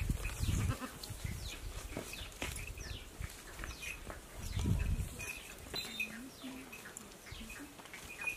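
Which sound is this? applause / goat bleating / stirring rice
goat bleating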